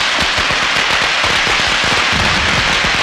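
A long string of firecrackers goes off in the middle of a street, a loud, dense, rapid crackle of pops running continuously throughout.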